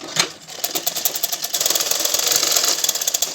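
An electric sewing machine stitching blouse fabric runs in a fast, steady mechanical chatter, starting in short bursts and then settling into a continuous close, loud run with no talk.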